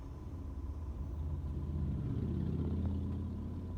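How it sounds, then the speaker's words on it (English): A throaty motorbike passes through slow freeway traffic, its engine rumble swelling from faint to a steady, louder drone as it draws closer, with no talking. "God, I love a good throaty motorbike."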